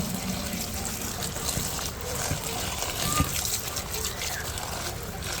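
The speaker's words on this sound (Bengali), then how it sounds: "প্রথমে ভালো করে কচুগুলো ধুয়ে নিব পরিষ্কার করে।" Taro is washed thoroughly under running water, a continuous close splashing and trickling with small sloshes that keeps going throughout.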